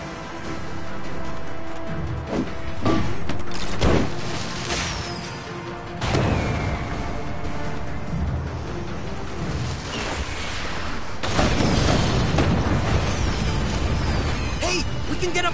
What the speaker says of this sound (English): Some fireworks!